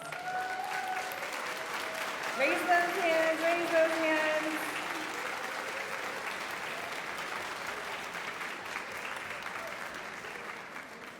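Audience applause fills a graduation ceremony hall at EDvance College as partners and supporters are honored, a steady wash of clapping that swells briefly early on, with a voice speaking over it.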